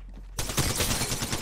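Video game gunfire from a ranked match erupts suddenly as a rapid, loud burst of automatic shots, following a brief low hum.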